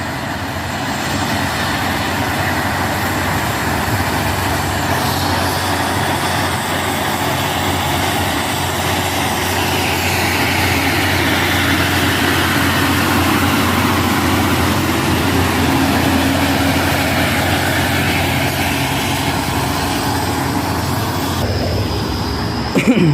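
Hino trucks, including Puso models, labouring up the Bukit Kodok hill climb, their engines droning loud and steady throughout with a low continuous rumble, heard close without any talk.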